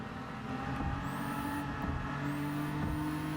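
A race car engine in a WTC600 race on the Tokyo Expressway in a driving video game, a constant loud drone with thin whining tones that sweep upward as the car drops a gear for a right-hand bend.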